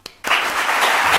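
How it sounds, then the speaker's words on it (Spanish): Audience at an award ceremony breaks into applause after a short pause: a couple of isolated claps, then a sudden full, steady wave of many hands clapping, fairly loud. "Un aplauso para ella."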